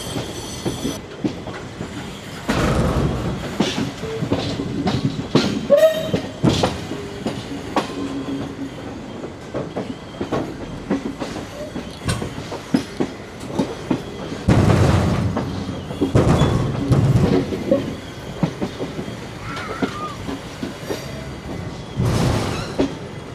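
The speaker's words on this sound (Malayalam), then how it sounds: "ഉദ്യാൻ എക്സ്പ്രസ്സിന് 1 അല്ലെങ്കിൽ 2ലേക്ക് ഇപ്പോൾ കയറ്റി വരും" Udyan Express rolling into a station platform, a steady rumble of wheels and carriages with recurring heavy thumps and clatter building and easing over the whole stretch, no voices.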